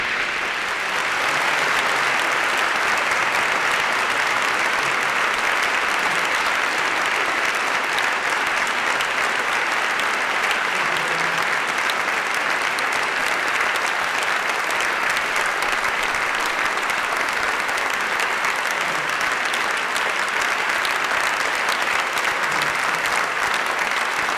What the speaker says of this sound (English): We could clap all night